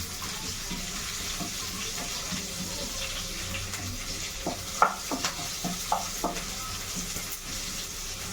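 Green chillies fry in a pan, a steady sizzle with scattered sharp pops and bursts that cluster toward the end, close and fairly loud.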